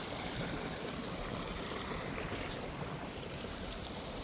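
A stream flows steadily through a bathing spot in Idukki, giving a continuous, fairly close rush and trickle of water that stays even throughout with no voices.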